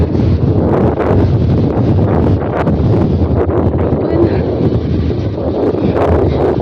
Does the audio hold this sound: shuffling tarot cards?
no